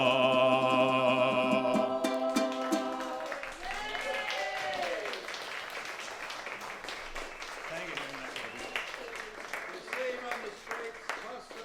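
An audience at a poetry performance at an arts festival in Sydney breaks into applause as a final musical chord fades, the clapping building and sustaining for several seconds with a few voices calling out over it.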